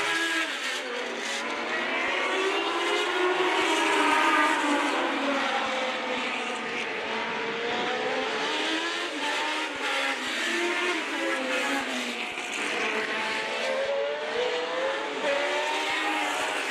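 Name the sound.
1978 Wolf WR6 Formula race car racing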